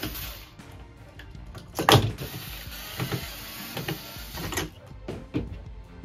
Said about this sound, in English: Now we will remove the two tweeters by taking off 3 screws from each tweeter.